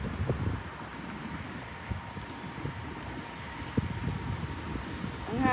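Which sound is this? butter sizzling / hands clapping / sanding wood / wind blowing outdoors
wind blowing outdoors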